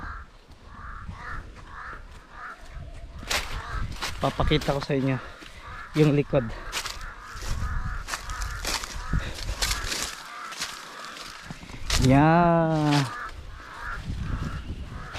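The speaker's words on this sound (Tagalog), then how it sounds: "Daming uwak oh" Crows caw repeatedly over open hilly farmland where horses haul corn, harsh calls coming at moderate distance amid outdoor background noise, while someone talks over them.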